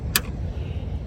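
A single sharp click rings out as the retractable mount on a bass boat snaps into place at a launch ramp, brief and close, with low road-like rumble underneath.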